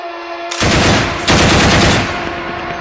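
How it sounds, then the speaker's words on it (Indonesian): A loud, close burst of machine-gun fire rattles in two dense volleys, the second starting just after the first fades, over a low rumble. "lalu diberondong dengan tembakan"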